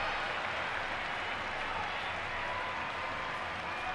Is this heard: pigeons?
no